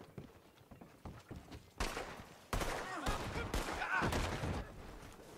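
Red Dead Online gunfire bursts out after a few quieter seconds of hoofbeat-like thuds, then loud sharp shots follow in quick succession with rolling echoes.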